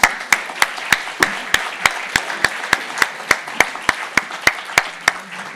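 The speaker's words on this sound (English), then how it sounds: "Everyone, please give him a warm round of applause." Audience applause at a book-talk event, heard as sharp, evenly spaced claps in a steady rhythm over a soft, continuous wash of crowd clapping. It is close and fairly loud and lasts the whole stretch without speech.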